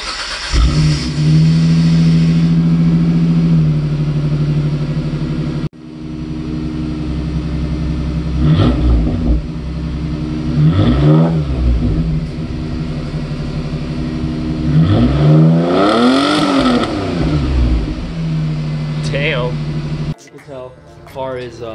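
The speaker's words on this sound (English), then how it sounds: "I'm gonna roll the exhaust clip right now." Mitsubishi 3000GT with its muffler deleted, the engine idling loud and close before several sharp revs climb and fall with a throaty exhaust note, broken by brief cuts between takes.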